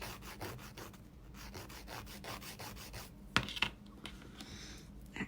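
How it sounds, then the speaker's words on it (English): A steady, rhythmic scraping rubs back and forth as an acrylic dip-powder nail tip decorated with crystals is trimmed and filed down, close and soft, slowing near the end into a few sharper scratches. "now I'm just going to trim down the tip a little bit where the crystals aren't"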